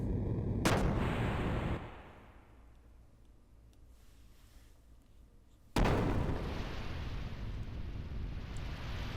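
A ship's gun firing in the Xenogears video game: a sharp blast opens a loud rumbling barrage, which drops to a quieter lull before a second sudden, heavy burst of booming fire.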